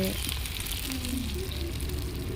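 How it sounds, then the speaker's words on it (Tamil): Shallots sautéing in hot oil for a village-style fish kulambu give a steady, close sizzle and crackle that runs without a break for the whole short stretch. "நல்லா சின்ன வெங்காயத்தை போட்டு நல்லா வதக்குங்க"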